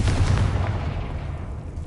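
A Confringo spell bursts in Hogwarts Legacy with a deep, rumbling blast that fades out over a couple of seconds.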